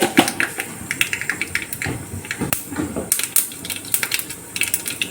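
Mustard seeds spluttering in hot coconut oil for a rasam tempering, a dense run of sharp irregular pops and crackles, close and fairly loud, with no one speaking over it.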